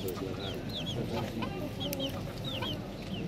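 Chickens, including a three-month-old rooster, cluck in short bursts close by, with squeaky chirps from young birds scattered through a busy bird market background.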